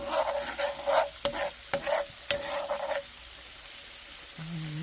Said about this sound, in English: I'm going to stir it a little bit